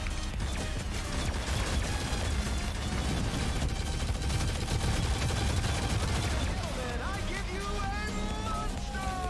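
The Eldritch Reaper rifle fires in a Shadowgun Legends arena match, a loud, continuous rapid-fire burst of gunshots with mechanical clatter that runs for about nine seconds.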